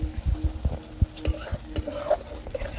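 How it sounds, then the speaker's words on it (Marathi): Masala spices frying in oil in a pot over a village wood-fired stove while being stirred, with rhythmic scraping stir strokes over a soft sizzle, close and moderately quiet with no talk. "तर तेल सुटेपर्यंत आपल्याला छान असा मसाला परतून घ्यायचा आहे"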